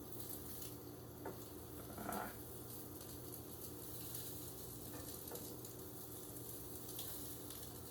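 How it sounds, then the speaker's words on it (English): Egg frying in a hot pan, a steady low sizzle running throughout with faint scraping and stirring on top, one slightly louder burst near the two-second mark, no voices. "see that pan got hot and the egg scrambled when I put it in the pan"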